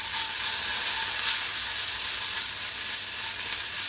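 Food sizzles and browns in a hot pan, a steady broadband hiss that holds level and close throughout with no talking.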